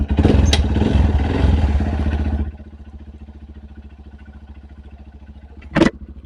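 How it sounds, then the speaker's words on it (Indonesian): A motorcycle engine catches and revs loudly with a clattering roar, then settles into a steady, pulsing idle, with a brief sharp mechanical noise near the end. "Oke, sudah hidup motor kita guys."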